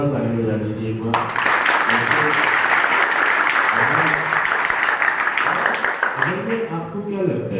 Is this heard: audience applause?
yes